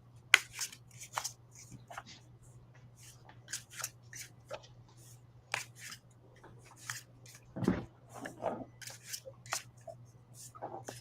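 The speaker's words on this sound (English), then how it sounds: "I've been sitting here shuffling these cards" Tarot cards being shuffled by hand, a run of soft, irregular papery riffles and snaps over a low steady hum, close and quiet with no talking.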